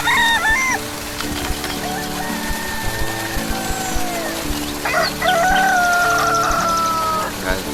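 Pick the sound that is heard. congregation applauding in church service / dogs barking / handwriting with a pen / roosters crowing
roosters crowing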